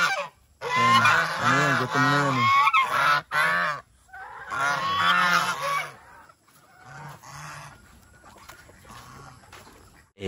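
Several geese honk in loud, harsh, overlapping bursts close by, with pauses between calls and quieter honks trailing off, while a person speaks briefly among them.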